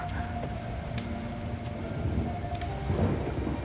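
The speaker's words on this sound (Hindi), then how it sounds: "बारिश रुकने का इंतजार कर लेते हैं।" Heavy rain pours steadily with rolling thunder rumbling through it, a dense continuous wash of downpour with low booms swelling toward the end.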